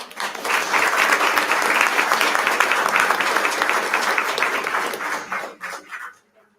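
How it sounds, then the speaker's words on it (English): An audience at a regular board meeting claps loudly and steadily for several seconds before the applause thins into a few scattered claps and stops. "One more clap."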